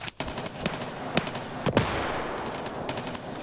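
A grenade explodes in the video game Escape From Tarkov, a sharp blast followed by a few more cracking bangs at close range, with rumbling noise underneath.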